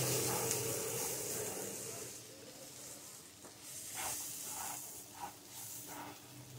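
Water goes into a hot pan of semolina upma with vegetables, giving a steady sizzling hiss that eases off, then faint stirring and bubbling.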